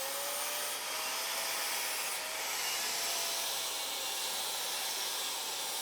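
Abrasive grinding or sanding rounds off the edge of a welded steel bend-test strap along the seam, a steady loud hissing rush that runs unbroken throughout with no speech.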